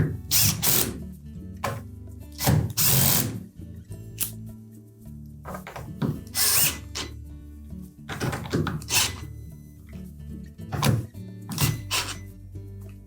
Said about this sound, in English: Once we've done that, we'll go ahead and tighten those screws.